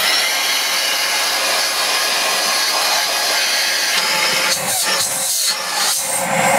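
A Dyson DC54 Cinetic vacuum cleaner motor runs steadily and loudly at close range with a strained whine, and its tone wavers and roughens toward the end.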